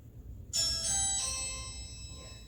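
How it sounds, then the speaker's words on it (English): A doorbell chime rings out through a small phone speaker, bright tones sounding once and fading slowly over a couple of seconds in a quiet room. "Gio is now playing the actual doorbell ring on my phone"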